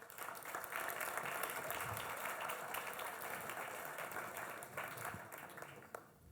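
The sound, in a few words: audience applause as panelists are invited on stage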